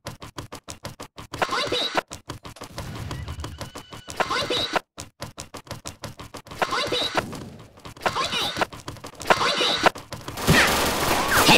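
Video game gunfire cracks out in rapid bursts of sharp shots, pausing briefly between volleys and growing denser near the end, with voices present in the mix.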